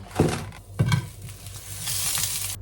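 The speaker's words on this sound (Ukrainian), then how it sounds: "Вирішила підсмажити млинці з вишнею і солодким сиром" Pancakes filled with cherry and sweet cheese fry in a pan with a steady sizzle, broken by a couple of sharp utensil clinks and scrapes, with no voices.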